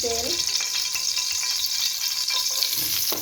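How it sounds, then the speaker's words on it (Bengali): Hot oil sizzles and crackles steadily in a pan while a Bengali flat bean curry is started, a dense, close frying hiss running the whole time with a few small stirring clicks. "এখন আমি এখানে দিয়ে দিচ্ছি তেলটা"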